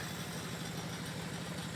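A farm tractor engine runs steadily for ploughing fields at an early-morning worksite, a low continuous idling rumble at moderate distance with no talk.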